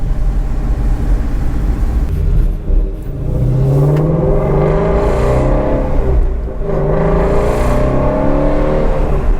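Ford Mustang GT350 with a resonator delete revs up, a loud, close exhaust roar rising and falling through several throttle pulls with a brief dip in between, no talking over it.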